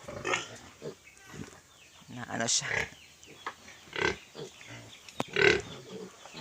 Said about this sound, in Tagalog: Sa kanila itong baboy nito.